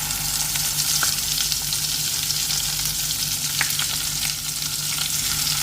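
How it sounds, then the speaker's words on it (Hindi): Spices sautéing in hot oil for a dhaba-style mutton bhuna, a loud, continuous sizzle with scattered sharp crackles and pops throughout, close up and without talk. "मसाले को हम इसी में सौते करेंगे कि मसाला क्रैकल होने लगे"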